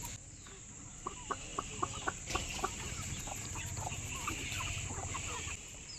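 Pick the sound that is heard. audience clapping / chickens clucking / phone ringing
chickens clucking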